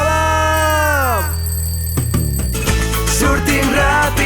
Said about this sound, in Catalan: De sobte un so estrany comença a sonar. És el despertador.